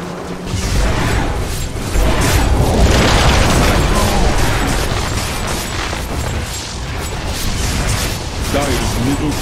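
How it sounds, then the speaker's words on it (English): A tower collapsing in Dota 2: heavy booming crashes and rumbling debris with mechanical clatter, loud and sustained, layered under ongoing game sounds and speech. "Dire's middle tower has fallen."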